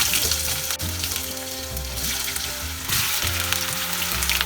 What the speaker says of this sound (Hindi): अभी हम आलू फ्राई करेंगे